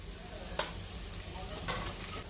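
Ginger-garlic paste sautéing in hot oil for a Khandeshi mutton curry, with turmeric about to go in: a steady close frying hiss runs throughout, broken by two brief bright clatters of stirring or spoon contact.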